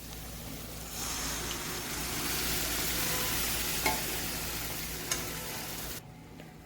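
Dal tipped into a hot tadka in a pan for dhaba-style dal, giving a steady loud sizzle and frying hiss with light stirring and a couple of sharp ticks, then cutting off abruptly near the end.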